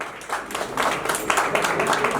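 An audience applauds a guest being welcomed at a Maharaja Ajmeedh Jayanti celebration and senior citizens' honouring ceremony. The clapping is dense and fairly continuous, with moderate loudness.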